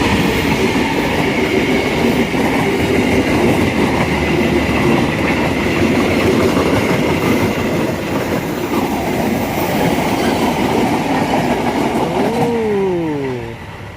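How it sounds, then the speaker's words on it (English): The Serayu passenger train KA 301 rolling into Bandung station, a loud close rumble with rhythmic wheel clatter that fades toward the end and then a squeal of brakes. "Tapi Serayu sudah kelihatan masuk ke stasiun Bandung."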